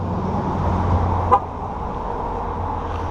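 A 2013 Dodge Dart gives a single short horn chirp as it locks, one brief toot rising over steady low outdoor traffic rumble, with no talk.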